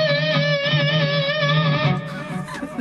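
A sustained electric guitar note bent up a whole step with wobbly, poorly controlled vibrato, clear and alone, wavering unevenly for about two seconds before the pitch collapses.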